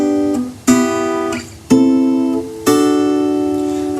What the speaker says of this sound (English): those 4 chords, to just triads along the first string,